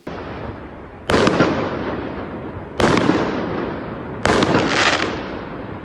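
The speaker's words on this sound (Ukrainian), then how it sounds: "невідомі запустили салют" Three loud firework bangs at steady intervals on a street in Rivne, Ukraine, each followed by a crackling, sizzling tail that slowly decays.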